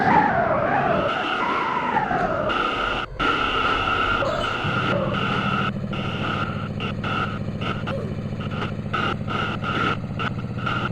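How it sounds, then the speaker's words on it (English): An R179 J subway train runs along the track, starting with squealing, screeching wheels, then settling into a loud, steady rumble and motor drone with intermittent rattles. "This is a Broad Street bound J local train."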